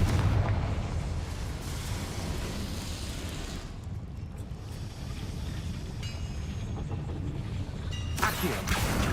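In Hogwarts Legacy, a Confringo blasting spell rumbles through a long, dense roar like a rushing explosion. Near the end comes a sharper, brighter burst, loud and close with no voices over it.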